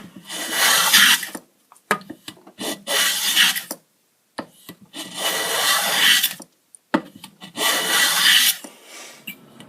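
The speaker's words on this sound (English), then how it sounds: "using my plane, and I've just been running it across this inlay to level it out with this piece of poplar" A hand plane run across a wood inlay to level it flush with poplar, four or five close, rasping strokes each lasting about a second and a half, separated by short silences.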